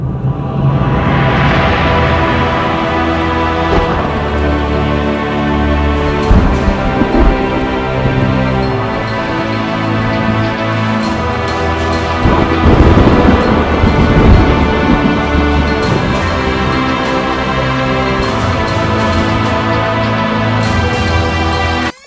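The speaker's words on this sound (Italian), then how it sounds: "una tempesta si abbatte su di noi" Thunderstorm with rain over open wilderness in Mongolia: a dense, continuous wash of loud noise with rumbling swells, heaviest around the middle, and no voices.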